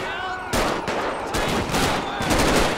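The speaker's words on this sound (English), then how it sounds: "Who they shooting at now?" Gunfire from GTA 5 in a port authority police patrol scene, with loud, dense bursts of shots crackling in quick succession and overlapping, close and continuous.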